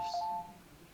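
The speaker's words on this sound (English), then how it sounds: "Oh, that's my phone." A phone notification sounds as a short, clear electronic two-tone chime, moderately quiet and over within half a second, with no talking over it.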